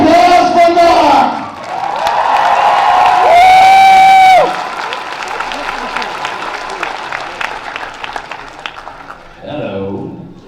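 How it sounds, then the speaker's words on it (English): A convention panel audience at a fan Q&A event bursts into applause and cheering, a loud, dense crowd roar with clapping that swells, holds for several seconds, then fades. Voices and shouts are heard before it. "Round of applause for Mark"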